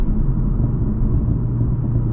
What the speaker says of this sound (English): you can hear some burbles from the exhaust when I let off the gas there